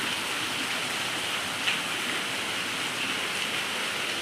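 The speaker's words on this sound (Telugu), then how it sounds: "వర్షం ఉరుముతుంది ఘోరంగా" Heavy monsoon rain pours down steadily in Hanamkonda, making a dense, loud, even hiss of water on the ground that does not let up, with no voices heard.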